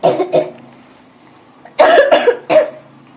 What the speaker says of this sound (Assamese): ইমান কাহ হৈছে